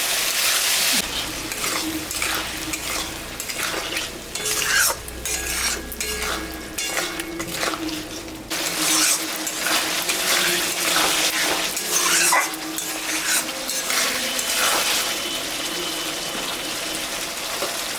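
Ginger, cumin, dried and green chillies, salt and turmeric sizzle with fried potatoes in a pan for a rohu fish curry, with a spoon scraping and clattering against the pan in repeated bursts over a steady frying hiss.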